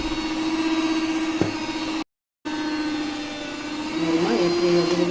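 Electric mixer beating homemade cake batter of milk and oil, a steady whining motor hum that cuts out briefly midway and then resumes with a slightly changing tone.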